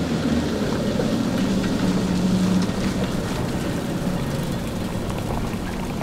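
Hafencity Riverbus amphibious bus engine running steadily as the driver throttles up, a continuous low droning rumble with a brief louder swell early on, mixed with broadband water and motion noise.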